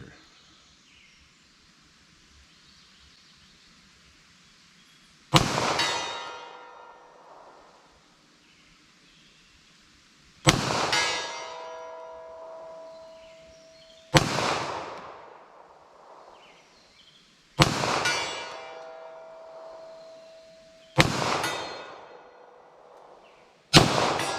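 Five 9mm pistol shots fired at steel targets, each a sharp loud crack with a ringing metallic tail, spaced a few seconds apart outdoors.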